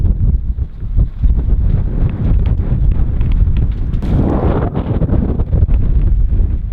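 Strong wind on a boat roars and buffets steadily, gusting to 25 during a cold front, with a heavier gust swelling midway, a constant low rumble with no voices.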